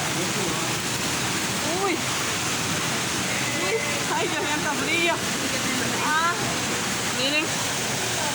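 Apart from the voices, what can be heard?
waterfall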